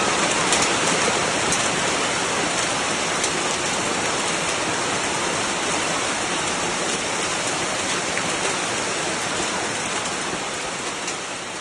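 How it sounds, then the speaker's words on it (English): Fierce hail pelts the streets, hutongs and ring roads of Beijing, pellets the size of peas up to ping-pong balls, a loud, dense, steady roar of impacts that stays constant throughout. "engulfed by a fierce downpour of hail"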